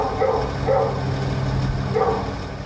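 A dog barks a few times at a distance, two quick barks and then another after a pause, over a low steady background hum.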